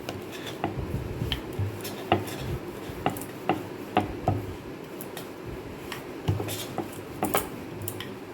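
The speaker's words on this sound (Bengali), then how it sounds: "চলো বেলে নিই রুটিগুলো।" Roti dough being rolled out with a rolling pin in a home kitchen, a steady series of soft knocks and light clatters as the pin presses and turns the small round dough balls, close and moderately quiet with no talking.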